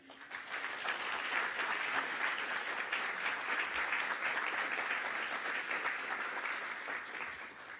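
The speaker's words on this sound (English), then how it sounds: "can we please give a round of applause to our families and friends out there?" A round of applause for families and friends at a college nursing pinning ceremony swells quickly and holds as a steady, moderately distant wash of clapping before easing off near the end.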